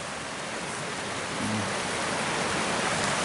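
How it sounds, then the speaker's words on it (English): Floodwater after heavy rain rushing through a flooded forest away from the river channel, a steady broadband roar of flowing water, constant and fairly loud, with no talk. "As you see, all this water flowing right here, this is not normal."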